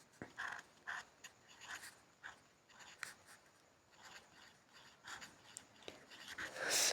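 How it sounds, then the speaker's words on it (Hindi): Pen with an adjusted, slightly bent nib writing on paper, faint scratchy strokes coming in short quick bursts, close and quiet with no talking. "अब दोबारा लिखते हैं।"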